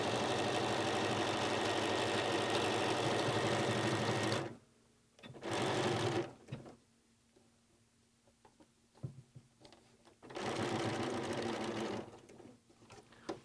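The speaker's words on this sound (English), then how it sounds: "Wrap, fussy fold, and stitch that binding into place." A sewing machine stitches quilt binding into place in bursts: a long steady run, a short burst, quiet handling with faint clicks, then another sustained run of close mechanical whirring.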